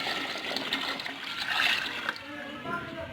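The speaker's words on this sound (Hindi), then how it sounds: "तो अब हम इसमें क्या करेंगे, पानी ऐड कर देंगे।" Water poured into a cooking pot of rice and chicken for yakhni pulao, a steady splashing gush that runs a few seconds before easing, close by.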